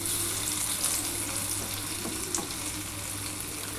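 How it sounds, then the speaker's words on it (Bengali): Sesame and poppy seed paste fritters frying in hot oil give a steady, moderately quiet sizzle and bubbling hiss that continues evenly throughout, with no voices. "প্রথমে এই 5 পিস আমার ভাজা হয়ে গেলে আমি তুলে নেবো"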